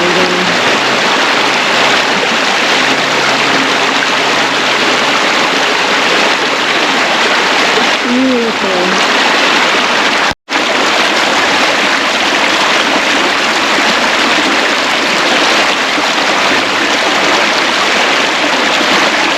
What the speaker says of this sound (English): there's these nice little waterfalls here